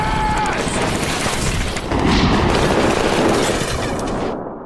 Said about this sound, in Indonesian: James menembaki petugas SWAT yang lagi mencari dan berusaha menciduk mereka